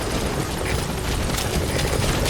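The support helicopter Pequod arrives in the video game Metal Gear Solid V, a dense, continuous rotor and engine roar filling the scene, loud and steady without a break.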